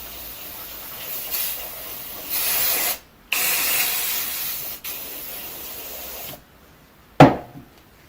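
Bursts of spray hiss as cleaner is blasted onto a Keihin DA50A carburetor from a Honda Prelude during a rebuild, several long close sprays broken by short pauses, ending with a sharp knock.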